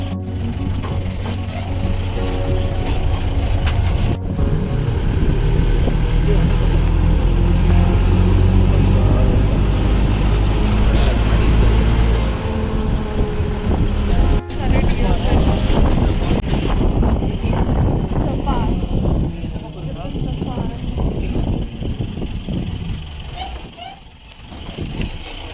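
Safari jeep driving through forest at Mudumalai, a steady loud engine drone with wind buffeting on the microphone, continuing with bumps and rattles throughout and easing slightly near the end.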